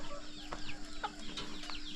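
Chickens cluck and chirp in short rising calls from a hen house in a small tribal village in the forest, a steady stream of close, moderately loud notes with no talking.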